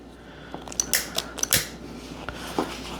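Scissors trimming vinyl snip several times in quick, crisp cuts, close by, with short quiet pauses between them.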